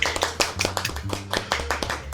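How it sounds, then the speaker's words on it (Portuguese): Hands clap in a steady series of about ten sharp, close claps, some doubled, over a low background hum. "Palmas para ele."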